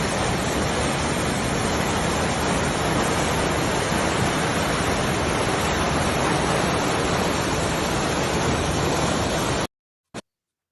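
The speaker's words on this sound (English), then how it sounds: "It sounded like a lot of white noise, but it was actually a raging river" A dense, steady roar of a raging river in a slot canyon fills the whole stretch, like constant white noise, ending abruptly with a brief thump after it cuts out.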